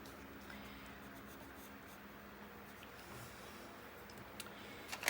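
Colored pencil dragged in heavy-pressure shading strokes across paper, a faint continuous scratchy rub up close, with a few soft taps near the end.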